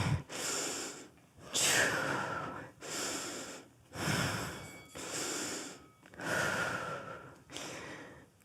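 Heavy, rhythmic breaths after a HIIT interval workout, with about seven loud inhale-exhale cycles in steady succession, some wheezy and snorting, close and with no talking.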